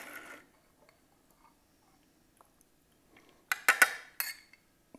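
A spoon scoops Texas-style two-corn salsa onto a plate. After a quiet stretch come a few sharp clinks and scrapes of utensil on dish, close and fairly loud.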